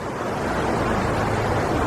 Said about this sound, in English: A creek runs through it.